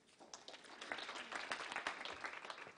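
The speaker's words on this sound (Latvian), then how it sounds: "Ar aplausiem." An audience at a public administration conference breaks into applause, a dense patter of many hands clapping that swells and holds at a moderate, slightly distant level.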